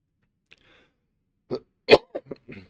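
A few short, throaty coughs in quick succession follow a faint click, fairly close and otherwise quiet.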